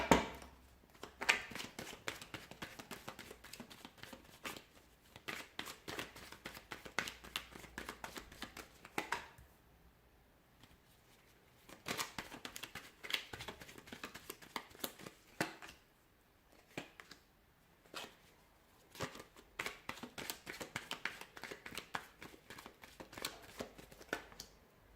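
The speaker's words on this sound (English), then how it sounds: "let's give the cards a shuffle and begin" Tarot cards being shuffled by hand, a steady run of riffling and flicking bursts broken by short pauses, close and fairly quiet, with no talking.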